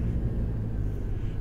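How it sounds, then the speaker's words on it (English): A small airplane's engines wind down on the ground after landing, a low, steady rumbling drone close by that fills the moment without speech. "Shut the engines down"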